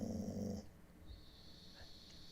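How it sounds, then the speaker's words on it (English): A dog makes a low snoring-like grunt, a short rumbling snort heard close and quiet indoors, followed by faint breathing and a steady high electronic whine. "So the snoring you hear is my dog"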